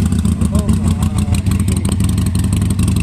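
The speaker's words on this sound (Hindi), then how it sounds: "900 सीसी का हार्ले डेविडसन देख रहे हैं" A 900 cc Harley-Davidson motorcycle engine runs close and loud with a deep, steady throbbing rumble, and voices talk over it.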